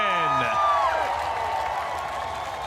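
Large crowd cheering loudly at a Florence Speedway dirt late model race, a broad sustained roar with whoops over falling tones from the track, fading slightly toward the end.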